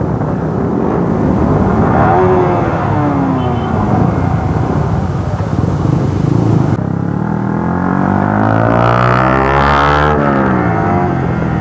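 Motorcycle with a loud aftermarket exhaust ridden at speed on hill roads, engine note rising and falling through corners, continuous and close with wind rush, no talk.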